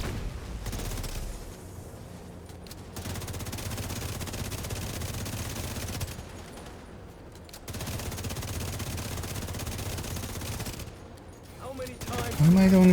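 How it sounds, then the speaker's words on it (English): Sustained rapid gunfire in a video game, aimed at a Marauder class quadcopter, rattling on in long bursts with brief pauses, loud and continuous with a few sharper accents near the end. "Why am I the only one shooting at it?"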